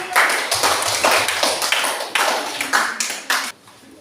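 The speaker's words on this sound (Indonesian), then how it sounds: "Oke, tepuk tangan." Audience clapping after a classroom presentation, a small group applauding close by in a busy irregular burst lasting a few seconds before abruptly stopping.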